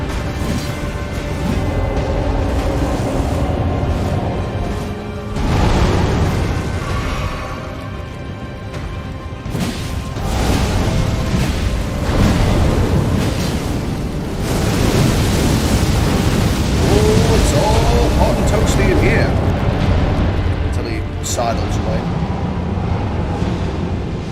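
An exploding fire monk enemy in Elden Ring bursts with heavy rumbling blasts and crashing booms, several loud surges of noise rolling over sustained game ambience.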